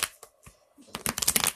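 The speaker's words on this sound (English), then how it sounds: "two more shuffles" A tarot deck riffle-shuffled twice, close up: a brief flutter, a pause, then a louder, longer crisp rattling burst of cards.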